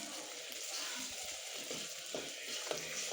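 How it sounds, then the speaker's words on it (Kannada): Green and dried chillies fry in a pan with a steady, even hiss and faint crackle, holding at a constant level throughout. "ಈಗ ಹಸಿಮೆಣಸಿನ್ಕಾಯಿ ಫ್ರೈ ಮಾಡ್ಕೊಳ್ಳೋಣ."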